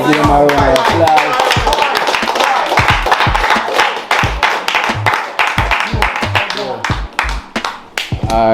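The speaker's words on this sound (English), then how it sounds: "Give them a round of applause." A small group claps in quick, uneven bursts, loud and close, punctuated by sharp snaps and hand taps while a voice keeps talking over it.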